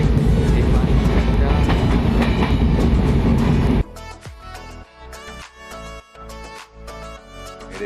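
A loud, steady rumble of the Howrah–Jagdalpur Samaleswari Express train moving fills the first half, then cuts to quieter music with plucked notes and rhythmic beats.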